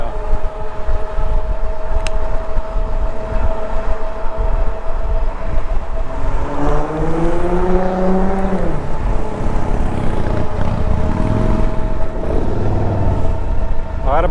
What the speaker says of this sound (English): A lot of bikes out tonight.